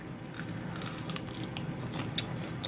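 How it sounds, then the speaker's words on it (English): Crisp crunching bites into an air-fried breaded chicken wing, a few sharp crackles close to the microphone against a quiet background, with no talking. "I'm going to go ahead and give it a bite and taste test for you"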